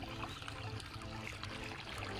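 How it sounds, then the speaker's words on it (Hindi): Irrigation water runs steadily into a farm field being prepared for onion planting, a continuous soft trickling and gurgling flow with no voices. "वो है पानी पटा रहे हैं अभी ये पूरा खेत का एरिया है जिसमें पानी पट रहा है"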